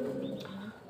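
Pigeons cooing in a loft of Spanish breeds, including Andalusian and Granadino pigeons, a low steady murmur of soft coos close by with no one talking.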